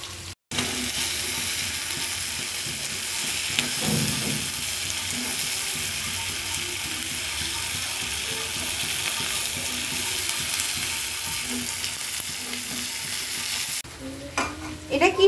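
Mixed vegetables fry and get stirred in a pan at home, a steady close hiss of sizzling with scraping spatula strokes and a few clatters, continuous throughout, ending with a brief clink near the end.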